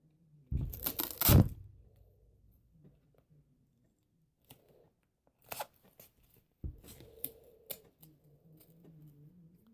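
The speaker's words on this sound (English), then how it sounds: "I hate cutting it with scissors." Scissors cut through a sock for a homemade stress ball, with a loud cluster of close snips and tearing crunches early on, then scattered quieter cuts after a pause.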